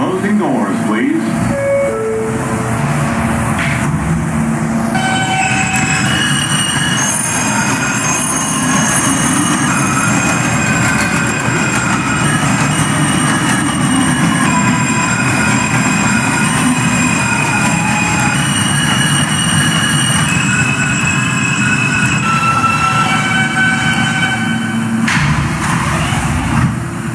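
A Roblox Transit City 3 R160A N local subway train rumbles and hums steadily at close range, with whining motor tones and squeals throughout. An announcement voice speaks at times over the noise.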